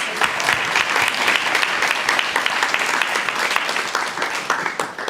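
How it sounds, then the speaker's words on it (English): Crowd applause for new guide dog teams at a Guide Dogs for the Blind graduation, steady dense clapping from many people throughout. "let's give one more round of applause for California 1020 new guide dog teams"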